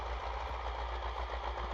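A steady MTZ-80 tractor engine rumbles and idles with an even low throb throughout, no voices.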